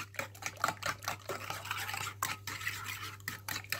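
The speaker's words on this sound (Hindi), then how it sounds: "इसको अच्छे से हम मिक्स करते हैं" Spoon stirring sugar with milk in a bowl for French toast batter, a steady run of soft scraping and clinking strokes close up, with a low hum underneath.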